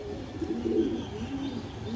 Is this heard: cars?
no